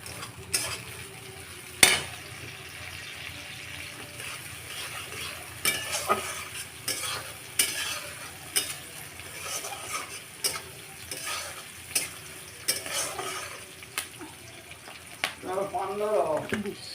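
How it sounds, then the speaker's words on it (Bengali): Curry leaves fry with onion, green chilli and mustard seeds, giving a steady sizzle broken by regular scraping and clinking strokes of a spoon stirring in the pan, close and moderately loud. "দেখুন পেঁয়াজগুলো আমার, কাঁচা লঙ্কা, পেঁয়াজ, সর্ষে ওগুলো ভাজা হয়ে গেছে।"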